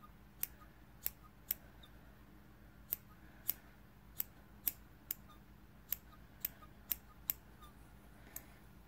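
Scissors trimming a yarn pom pom, a dozen or so sharp, quiet snips spaced irregularly about half a second apart over a faint steady background.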